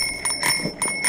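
A cheap little bicycle bell on a handlebar, rung in several quick, bright metallic dings close by, with no voices.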